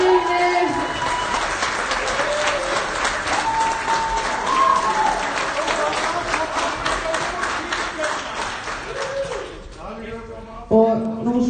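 Audience applauding a woman's 40th birthday at a sports event, sustained steady clapping from a crowd in a large hall, with someone speaking over a microphone as it fades out.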